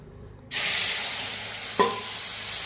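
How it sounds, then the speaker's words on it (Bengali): Ground cumin, ginger and chilli paste dropped into hot oil in a kadai, with a sudden loud sizzle that bursts in and holds as a steady close hiss, plus one brief clink partway through. "এখন কড়াইতে তেল দিয়ে বাটা জিরে, আদা আর লঙ্কা দিয়ে দেব।"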